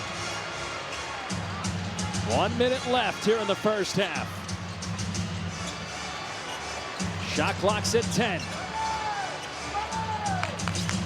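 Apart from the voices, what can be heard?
basketball arena crowd, 76ers vs Heat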